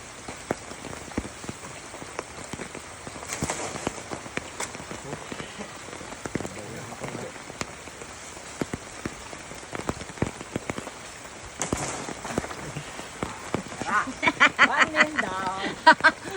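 Rain patters steadily on a surface with sharp drops hitting close by, while people talk intermittently over it outdoors while gathering kamansi (breadnut).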